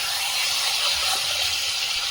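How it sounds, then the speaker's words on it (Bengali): Fried fish being sautéed in spiced masala in a home kitchen, a steady, fairly quiet hiss of sizzling oil running unbroken throughout with no talking. "এবার ভেজে রাখা মাছটা এর মধ্যে দিয়ে দেবো, দিয়ে ভালো করে কষিয়ে দেবো"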